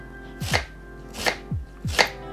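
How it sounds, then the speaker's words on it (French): A kitchen knife finely chopping an onion on a cutting board, three crisp, evenly spaced knife strikes that sound close and clear, with no talking. "on va couper finement comme ça, dans ce sens-là"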